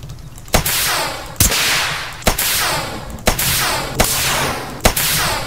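Explosions glitch in The Forest survival video game, each with a loud, sharp crack and a roaring decay. They repeat at a fast, regular pace, about one per second.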